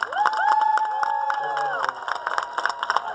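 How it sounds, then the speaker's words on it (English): Crowd at a youth baseball opening day ceremony cheering and clapping for district champions, scattered claps and whoops over sustained crowd noise and tonal whistles, fading to lighter applause. "Please give them a big round of applause."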